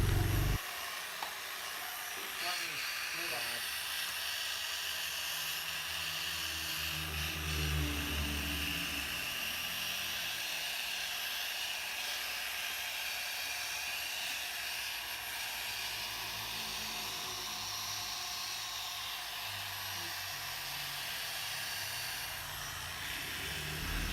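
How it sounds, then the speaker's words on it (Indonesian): A polishing machine runs at speed 2 while buffing a Honda Vario motorcycle to remove scratches, giving a steady, loud whirring drone that holds without break for the whole stretch. "Kita naikkan ke speed 2 untuk memaksimalkan hasil poles supaya baret-baret bisa dihilangkan atau disamarkan dengan baik."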